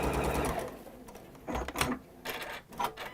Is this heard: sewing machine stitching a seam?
yes